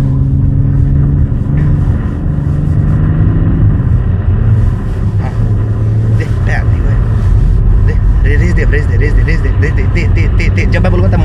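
Car engine revving hard while drifting, a loud sustained rumble that rises and falls, with excited voices talking over it throughout.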